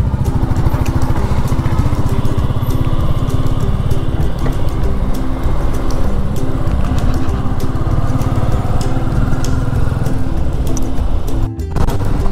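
A motorcycle engine drones loudly and continuously with a steady rhythmic pulse during a hill ride on the road from Pune toward Mahabaleshwar, with wind noise over it.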